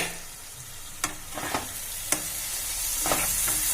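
Dal with eggs fries in a pan under a steady soft sizzle, while a few sharp scrapes and clacks from stirring come through close by.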